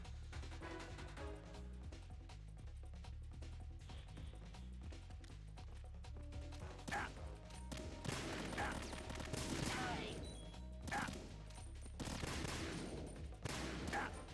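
Enemy gunfire crackles in Metal Gear Solid 2, starting as a quieter patter under background game sounds and building into dense, sharp volleys of rapid shots in the second half.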